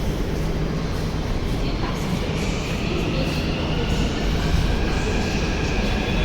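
A Hyderabad metro train rumbles past at a station, a constant, loud mechanical roar with faint rail clatter. Background voices are heard beneath it.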